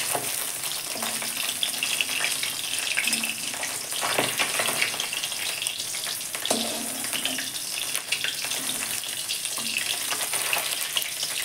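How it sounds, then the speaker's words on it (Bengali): Magur and tengra fish sizzling in oil in a pan, a dense continuous crackle and hiss with occasional louder spatters and stirring scrapes, close and steady with no voices. "মাছগুলো ভাজা হয়ে গেছে, এবার আমি তুলে নেব"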